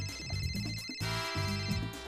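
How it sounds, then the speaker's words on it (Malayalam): A cartoon telephone rings in an office scene, a bright electronic ringtone repeating as steady tonal bursts over a continuous musical background, with no talking during the ring. "മിസ്റ്റർ ലീ അങ്ങേ ഫോണിൽ വിളിക്കുന്നു."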